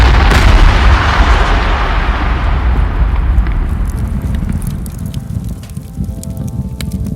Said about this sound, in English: And then, the Big Bang.